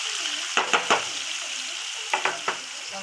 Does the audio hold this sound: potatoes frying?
yes